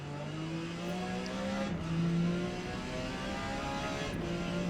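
Porsche 956 prototype race car in Forza Motorsport lapping the Kyalami circuit, its engine droning steadily with a sustained, slowly shifting pitch and mild rise around mid-clip, with no talk.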